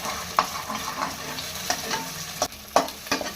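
Eggs frying in a pan for street-style noodles make a loud, close sizzle broken by repeated sharp scrapes and knocks of a spatula stirring, with no speech.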